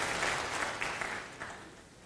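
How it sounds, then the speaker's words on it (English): Conference audience applauding, a continuous wash of many hands clapping at moderate level that tapers slightly as it goes. "I think this deserves an applause"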